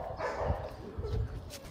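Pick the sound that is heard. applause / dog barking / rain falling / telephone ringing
dog barking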